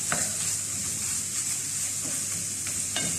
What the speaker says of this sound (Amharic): ስለዚህ ይሄንን በደንብ አድርጌ ጥብስ አድርገዋለሁ ማለት ነው። እጠብሰዋለሁ